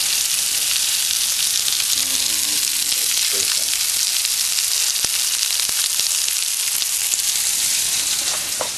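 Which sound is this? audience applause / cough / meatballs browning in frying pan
meatballs browning in frying pan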